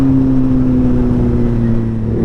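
A tricycle with an Austin Racing exhaust and catalytic delete revs loudly and steadily close by, its engine note holding a deep continuous drone for about two seconds.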